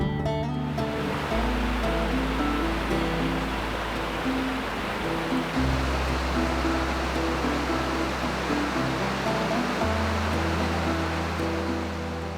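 Scale Force Waterfall in the Lake District, England, pours as a loud, constant rushing roar with no breaks, overlaid by a steady low tonal drone.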